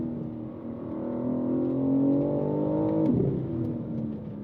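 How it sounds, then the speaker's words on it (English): A 2025 BMW M4 CS engine churns while driving, a smooth, rising multi-tone drone heard from inside the car. It swells steadily and then eases, with no talking. "this motor is just churning away"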